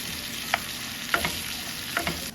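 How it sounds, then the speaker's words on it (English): Chopped onions sauteing in melted butter in a pan, with a steady soft sizzle and a few brief scraping stirs at intervals, no talking. "I'm going to toss in the onion. Alright, so I'm going to give those a mix, let them saute."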